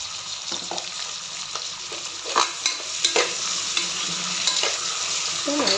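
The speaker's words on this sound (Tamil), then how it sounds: "வெங்காயம் போட்டு நல்லா பொன்னிறமாக வதக்கிக்கணும்" Lightly salted onions sauté in a hot pan for tomato rice, a continuous close sizzle broken by repeated spatula scrapes and taps that grow busier midway through, with no talking.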